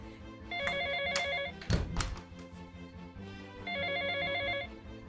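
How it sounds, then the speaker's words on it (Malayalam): A telephone rings in two warbling bursts separated by a short pause, with a single dull thump between them, fairly close and otherwise quiet. "ഇപ്പം ആരാ ഫോൺ വിളിക്കണത്?"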